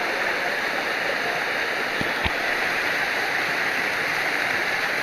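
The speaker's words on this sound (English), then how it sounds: "This is the top side of these falls, and they come all the way down here" A waterfall and mountain runoff rush along the Taum Sauk section of the Ozark Trail, a loud, steady broadband roar of falling water with two brief sharp knocks partway through.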